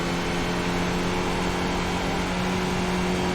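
A Skip Barber race car in the iRacing sim at Zandvoort gives a loud, steady engine drone with a sustained buzzy note, held at an even pitch throughout with no talking.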